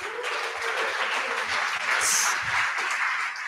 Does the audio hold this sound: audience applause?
yes